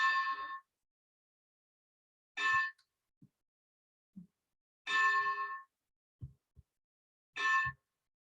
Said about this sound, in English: You can hear the lovely clock ringing 7 p.m.